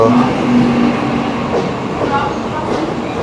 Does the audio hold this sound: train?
yes